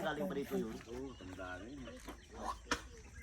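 Chickens and chicks cluck and chirp on a rural farm, several calls overlapping at close range, with a person's voice mixed in among the birds.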